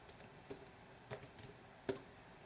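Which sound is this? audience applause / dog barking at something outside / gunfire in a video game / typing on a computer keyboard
typing on a computer keyboard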